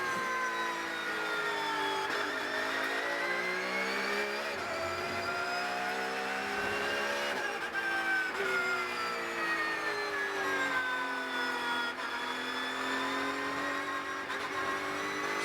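Porsche Cup race car on a qualifying lap at Hockenheimring heard onboard, a loud continuous engine howl rising and falling through gear changes and revs, no talk.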